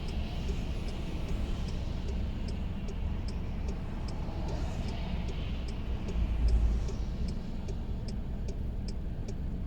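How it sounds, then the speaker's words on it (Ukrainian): Steady dense rumble of road traffic with many cars passing close by, heard from inside a car on a driving-exam route, with a regular ticking indicator running over it throughout. "Дуже багато машин."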